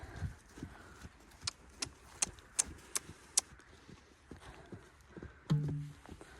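Horse hooves clip-clopping on the ground as it moves on a lunge line over poles, a series of distinct, fairly quiet steps in a loose rhythm with a brief rustle near the end.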